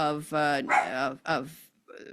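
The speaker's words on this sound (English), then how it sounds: "oh, that's my dog, sorry" A dog barks in quick succession indoors, several loud, close yelping barks in a short burst followed by a softer final yip, with no other sound.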